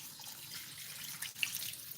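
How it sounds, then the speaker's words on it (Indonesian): Water is poured into a cooking pot for Batak-style arsik carp, a steady splashing hiss that holds level for a couple of seconds with one brief brighter splash, close and alone. "Masukkan air."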